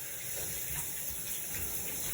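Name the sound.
warm water running while bathing a cat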